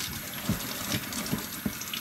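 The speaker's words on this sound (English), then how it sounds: "I just run my water in my sink," Tap water runs into a kitchen sink while sugar is rinsed from a pot during candy apple making, a steady close splashing hiss with a few soft thumps.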